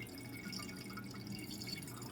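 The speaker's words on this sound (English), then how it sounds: "I just picked up the handle to pick up the flapper, just so water could escape a little faster" Water trickles and drips steadily inside a running toilet tank as the flapper is lifted, a faint continuous close-up liquid flow.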